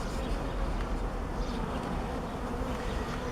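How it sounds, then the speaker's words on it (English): Carniolan honey bees swarm around an opened hive box during a smoking inspection, a steady close, dense buzzing hum that holds evenly throughout with no talking. "These are all Carniolan bees."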